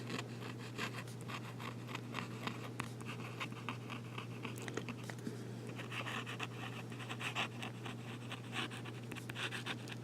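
A Wearever Pennant fountain pen nib scratches across paper in steady close strokes, a faint dry rasp with small ticks running continuously over a low steady hum.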